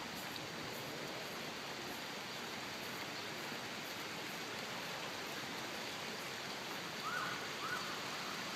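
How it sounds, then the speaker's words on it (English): Rain beginning to fall outdoors makes a steady, even hiss of drops that holds at a constant level throughout, with a couple of faint chirps near the end. "It's starting to rain. We're gonna get caught in it."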